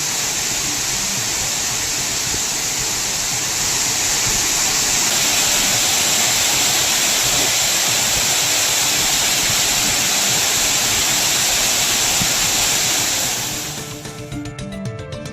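Steady, loud roar of falling water at the Pulavichaaru waterfall, a broad continuous rush filling the whole clip before dropping off abruptly near the end, with no voices.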